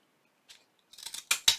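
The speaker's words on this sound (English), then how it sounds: "I'm just going to use my mini pinking shears" Mini pinking shears cut out a paper flower stamp, a faint snip followed by a run of crisp close crunching cuts that end in two louder snaps.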